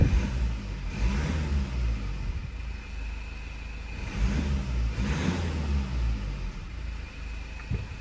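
A Mazda car engine, one with an oil pressure fault, runs steadily through a test drive, a continuous low rumble that rises and swells as the driver accelerates, near and loud with no voices.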